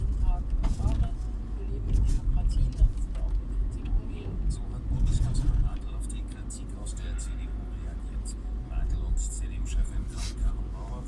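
Steady low road rumble from inside a moving car, with engine and tyre noise continuing throughout under a voice.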